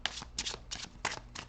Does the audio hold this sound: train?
no